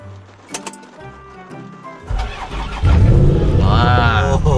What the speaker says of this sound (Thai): เอาสิฟังเสียงสตาร์ทเนาะ เสียงแบบเฟอร์รารี่เลยทุกคนเชื่อป่ะเดี๋ยวสิสตาร์ทให้เบิ่งนะ